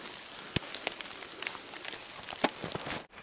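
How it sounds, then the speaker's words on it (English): Steady rain patters on surfaces outdoors during a coyote-calling dog hunt, with a dense constant hiss broken by a few sharper close drops and knocks. "Too much rain."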